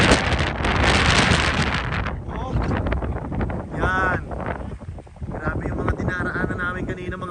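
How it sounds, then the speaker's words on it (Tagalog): Strong wind buffets a microphone on a mountain roadside in Canada in light rain, a loud broadband roar that is heaviest at the start and then eases, with voices talking over it. "Mahangin, medyo umuulan."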